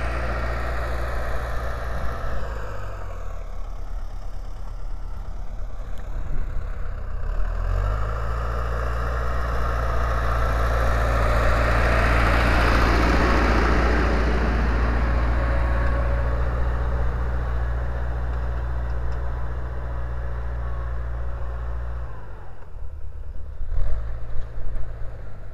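A T-40 tractor ploughs with a homemade plough, its engine a steady low drone close by that swells in load and strain midway before easing back, with no voices.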